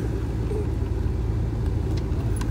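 A family car drives along the road, its interior filled with a steady low rumble of engine and tires, loud and constant throughout with a few faint clicks and no talking.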